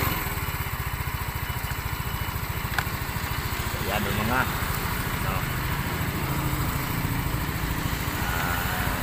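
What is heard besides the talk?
Yamaha Mio i 125 motorcycle engine idling after overhaul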